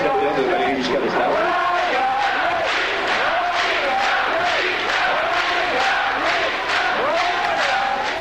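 A young crowd of a few hundred Valéry Giscard d'Estaing supporters, some in Giscard shirts, shouts and chants in the street, a loud, steady, rhythmic roar of massed voices with repeated swelling calls.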